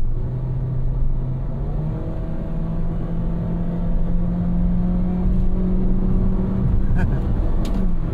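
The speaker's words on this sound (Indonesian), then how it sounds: "kalau mobil CVT itu bunyinya ya udah gitu aja, dia rung terus, tapi nggak ngoper-ngoper" A 2015 Honda HR-V CVT engine drones at a steady, rising pitch as it accelerates smoothly, without gear-shift breaks, with some faint voice underneath.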